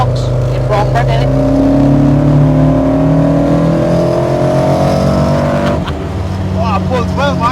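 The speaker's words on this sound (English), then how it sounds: "It's got a custom exhaust, got a Harris manifold, and then we've got a custom stainless exhaust there, 2 1/4 all the way back." A Mk2 Ford Escort RS2000 with a Harris manifold and custom 2 1/4-inch stainless exhaust pulls hard under acceleration, its loud engine drone rising steadily from inside the car while people talk over it.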